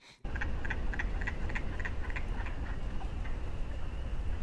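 Wood frogs call in a steady series of short, clucking pulses over several seconds, moderately near, against a constant low rumble of background noise.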